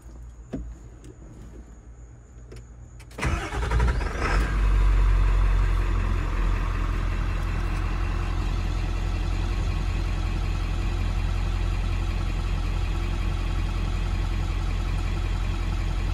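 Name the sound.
truck engine starting and idling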